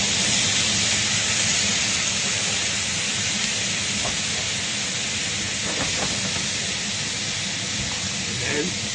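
Cooking wine poured into a hot pot while braising chestnut, mushroom and pork ribs sizzles with a loud, steady steamy hiss that lasts throughout.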